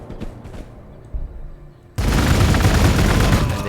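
Units open fire in the strategy video game Warhammer 40,000: Gladius. Quiet interface sounds lead into a sudden loud, dense burst of sustained gunfire that continues to the end.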